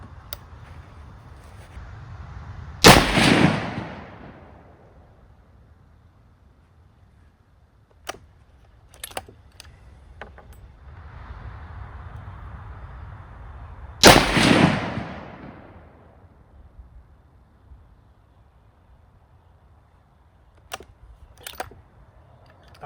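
Two loud, sharp rifle shots from a Ruger American Compact .308 fired outdoors, spaced about eleven seconds apart, each with a trailing echo, plus a few faint clicks from handling the bolt between them.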